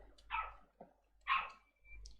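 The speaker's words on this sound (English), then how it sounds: "Sorry about the dog." A dog barks twice in the background, two loud, separate bursts about a second apart with a short yip between them. The barking is close and clear over a quiet room with no talking.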